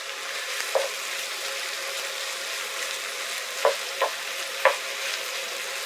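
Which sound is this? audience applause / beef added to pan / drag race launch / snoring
beef added to pan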